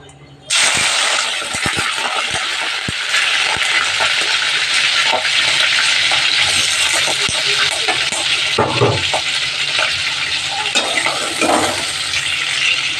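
Prawns fry in hot oil for a Bengali mocha-chingri dish, a loud, steady sizzle that starts abruptly and runs throughout, with scattered clinks and clatter from the pan.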